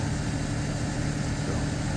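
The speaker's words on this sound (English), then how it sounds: "Just got a tractor started." A tractor engine runs steadily just after being started on a cold day, a continuous low, even drone with no variation and no voices.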